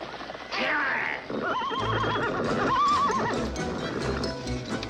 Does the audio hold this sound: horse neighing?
yes